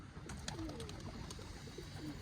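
Several pigeons cooing softly in low, rolling calls among a crowded flock, a bit distant, over a steady background hiss with a few faint sharp ticks.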